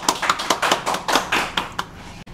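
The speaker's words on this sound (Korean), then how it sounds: "박수 부탁합니다." A small audience claps at a lecture in Gangnam to welcome the head of a building design firm, a quick run of distinct, fairly close hand claps with no talking.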